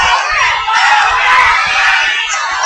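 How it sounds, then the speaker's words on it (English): A packed boxing arena crowd roars on its feet during a heated round at Smart Araneta Coliseum in Manila, a dense, loud, continuous wash of cheering and shouting with no break throughout. "The crowd on their feet."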